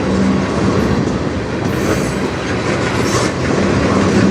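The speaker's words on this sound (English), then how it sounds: "Usually this train is track 1 and much faster." A train rolls steadily past at close range on track 2 of the Strathroy Subdivision, a loud continuous rumble of wheels on rail with faint clatter throughout.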